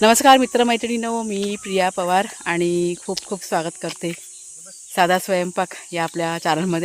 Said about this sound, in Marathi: मी ना रातकिड्यांचा आवाज येतोय ना त्याचा